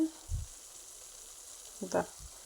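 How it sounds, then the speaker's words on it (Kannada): Herbs fry in oil for a homemade hair oil, giving a faint, steady sizzle under a few soft low knocks from the pan. "ಇದು ಪೂರ್ತಿ ಫ್ರೈ ಆಗಬೇಕು."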